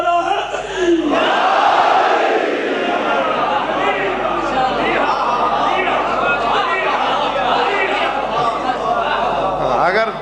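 A large majlis crowd roars a loud massed chant of the Naara-e-Haidari slogan, with voices swelling together and sustained for several seconds in a dense, reverberant wall of shouting.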